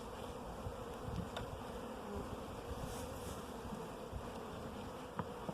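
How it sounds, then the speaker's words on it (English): A dense, continuous hum of many honeybees buzzing together around a hive in a community garden, steady and close, with a few faint knocks and no talking. "And are these bees quite docile and friendly in this hive"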